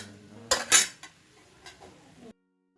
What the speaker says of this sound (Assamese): এতিয়া আমি ইয়াত লাহে লাহে ভাজি থোৱা চুজিখিনি অলপ অলপকৈ মিলাই ল'ম